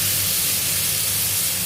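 Chopped tomato hits a frying pan of sautéed onions, setting off a loud, steady sizzling hiss that fills the moment with no talk.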